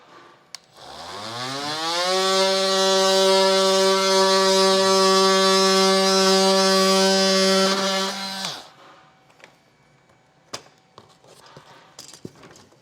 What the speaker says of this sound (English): if you do use a powered blade to cut this bottom portion, it's going to be easiest to use my multi-tool